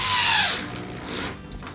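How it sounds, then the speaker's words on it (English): A power drill drives screws into a plywood subfloor being installed in a school bus conversion, giving a loud, close whirring burst that winds down, then softer grinding and rubbing as the screw heads seat flush. "We had to push down on the drill pretty hard just to make sure the tops of those screws were flush with the plywood"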